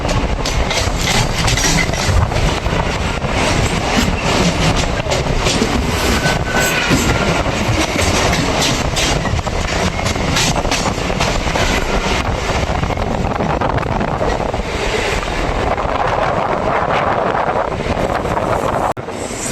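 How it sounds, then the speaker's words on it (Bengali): A Krishnanagar–Sealdah local train rolls into a station on the down line, a loud continuous rumble and clatter close by, mixed with heavy wind noise, with no talk. "আর সেই সাথে ডাউনের দিকে ট্রেন ঢুকছে কৃষ্ণনগর শিয়ালদা লোকাল।"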